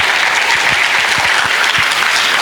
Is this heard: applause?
yes